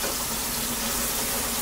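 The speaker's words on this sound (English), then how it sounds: "So why did you put on the water?" Water runs from a tap in a room where instruments are scrubbed clean, giving a steady, fairly close hiss of flowing water that holds unbroken throughout.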